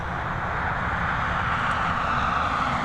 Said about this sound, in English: One of the last few flights of the day coming in on the North Runway there.